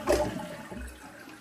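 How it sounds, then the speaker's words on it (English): A Kohler toilet with a weak flush gives a brief rushing whoosh of water, loud and close at first, then settling into a steady low draining gurgle. "We'll give it a flush."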